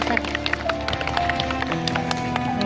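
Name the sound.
audience clapping for a speaker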